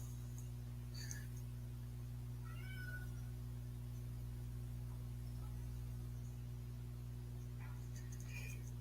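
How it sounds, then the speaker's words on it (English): A pet cat named Marco meows a few times, soft and somewhat distant, with long pauses between calls over a steady low hum. "what are you meowing at"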